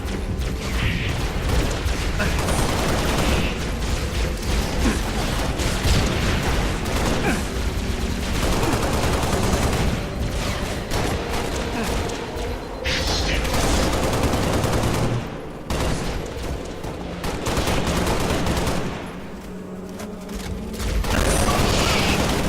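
Dense, continuous gunfire from the video game Halo Reach during a co-op mission, rapid bursts and shots layered with mechanical clatter, loud and sustained with brief lulls.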